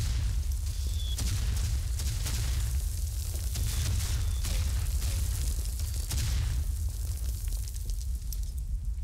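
Grenade blasts and fiery rumbling in the Verdun video game, a dense, loud, continuous wash of booming explosions with sharper bursts near 1 s and 6.5 s, sustained throughout without pause.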